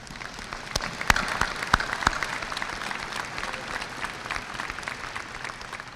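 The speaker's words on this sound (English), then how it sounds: "please give a big round of applause to Laredo ISD Cabinet" An audience at a high school graduation ceremony applauds the Laredo ISD Cabinet, a dense, sustained roar of clapping with a few sharp, louder claps close by.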